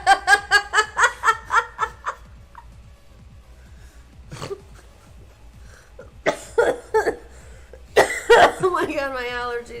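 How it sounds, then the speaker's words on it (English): A person with allergies coughs hard in a rapid string of barks, then lets out more scattered coughs and laughter over a quiet room during a Thursday night trivia game. "my allergies are making me cough so bad."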